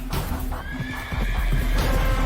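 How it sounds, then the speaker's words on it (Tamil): A magic horse from a Tamil fantasy tale gallops in with clip-clopping hooves and lets out a loud whinny, the neigh ringing clearly over the close, steady hoofbeats. "தமினா விசில் அடித்த அடுத்த நொடி ஒரு மந்திர குதிரை அங்கே ஓடி வந்து நின்றது"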